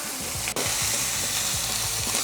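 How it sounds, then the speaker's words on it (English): A ribeye steak lands in a smoking-hot oiled pan, bursting into loud, close, continuous sizzling and crackling after a sharp initial contact, with no voices. "Spread it around and drop your steak in"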